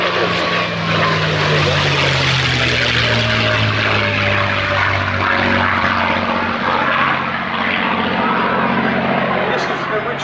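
A P-51D Mustang 'Red Tail', built in Inglewood, California, with its piston engine droning loud and steady as the propeller aircraft runs close by, a deep, sustained roar with slowly shifting pitch.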